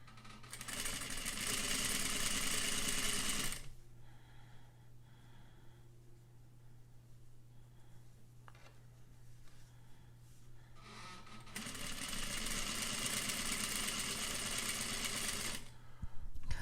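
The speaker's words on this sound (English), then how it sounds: "Let me put the needle down here right on that edge. And then I will sew." Domestic sewing machine stitching a rolled hem along a fabric edge, running in two steady loud bursts at the start and end with a quieter pause between, a constant hum underneath.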